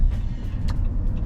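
A Jeep Compass hybrid SUV driving, its low steady road rumble and engine hum continuous and close throughout the brief stretch, with no voices.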